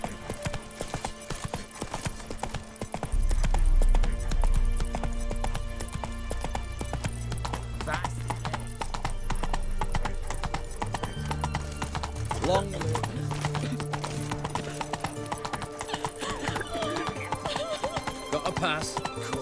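Roach, Geralt's horse in The Witcher 3, trotting with steady clip-clop hoofbeats on hard ground, a snort or whinny partway through, with in-game voices and ambient sound beneath.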